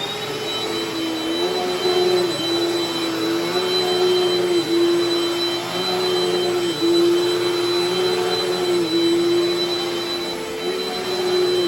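A Dirt Devil Dynamite Plus vacuum cleaner runs continuously at close range, a loud steady motor whine with a slight wavering pitch and broad airflow hiss, with no speech.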